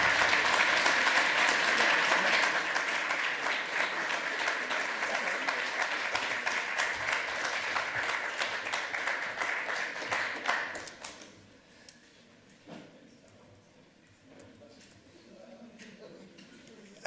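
Audience applause at a hacker conference's lightning talks session, a dense, steady roar of clapping that carries for about ten seconds before abruptly thinning to a few scattered claps and faint room noise.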